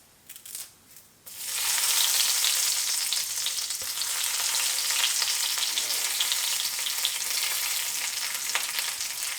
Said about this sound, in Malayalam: കടുക് പൊട്ടിത്തുടങ്ങിയിട്ടുണ്ട്. നമുക്കിതിലേക്ക് കുറച്ച് കറിവേപ്പില ഒന്ന് കീറിയിട്ട് ഇട്ട് കൊടുക്കാം